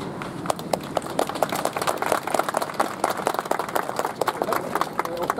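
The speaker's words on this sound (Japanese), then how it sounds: "大きな拍手喝采を浴びているところですが" Crowd applause with dense, rapid clapping at the opening ceremony of the Hirosaki Cherry Blossom Festival in Hirosaki, Aomori, steady and lively throughout, with an announcer's voice and other talk mixed underneath.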